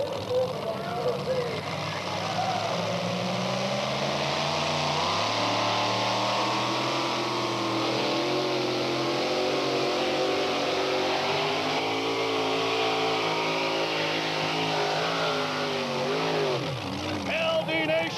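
A two-wheel-drive pulling tractor with a 640 cubic inch engine, Boot Hill Delivery, roars steadily through a full pull at a 1989 NTPA tractor pull, loud and sustained with shifting engine pitch and an announcer's voice over the top.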